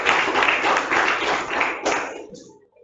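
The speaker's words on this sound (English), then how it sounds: "Clap for them." Audience applause at a zonal quiz competition swells as a dense, bright clatter of many hands clapping for a couple of seconds, then quickly tapers off into silence.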